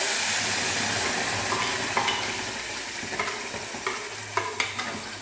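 Vegetable puree is poured into a hot soup pot, bringing a loud initial hiss and sizzle that fades, followed by a few scattered clinks and stirring scrapes nearby.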